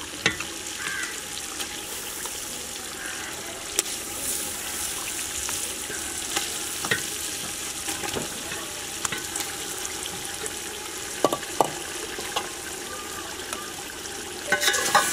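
Fish crackles loudly in hot masala, a dense continuous sizzle close by with occasional sharp clicks and scrapes as it is stirred.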